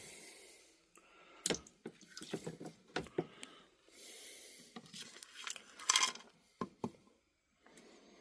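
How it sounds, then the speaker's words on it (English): Carburetor parts, including a spring and lower impeller, being placed into a container of Simple Green cleaning liquid to soak, giving close, irregular splashes, drips and crinkling handling noises with brief quiet gaps and no talk. "I'm going to put these parts in here and let them soak in the simple green."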